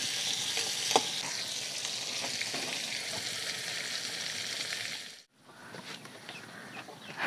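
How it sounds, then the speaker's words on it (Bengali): Sundarban king crabs fry with salt and turmeric in a pan, giving a steady close sizzle with faint scraping. The sizzle cuts out sharply for a moment, then returns more softly. "লবণ আর হলুদ দিয়ে কাঁকড়াগুলো ভেজে নেওয়া হচ্ছে সুন্দর করে।"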